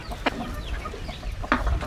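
A native desi chicken gives two short sharp clucks about a second apart, close and clear over faint background noise.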